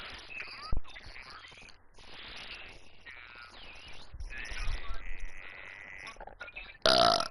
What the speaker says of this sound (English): Excuse me, I just belched.